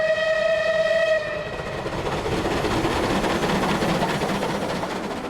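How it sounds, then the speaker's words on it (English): Merchant Navy class steam locomotive 35028 works flat out hauling a 500-ton train; a sustained whistle sounds for about a second, then gives way to a loud, continuous roar of exhaust and rolling stock close by. "35028 is working flat out with a 500-ton train"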